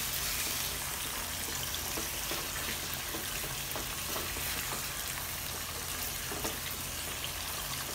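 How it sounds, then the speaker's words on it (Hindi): Flat mutton pieces frying on a medium flame and turned over, a steady even hiss of hot oil with faint occasional scrapes, continuous and fairly close. "इसको ऊपर नीचे करके इसको हम फ्राई करेंगे कम से कम 5 मिनट तक"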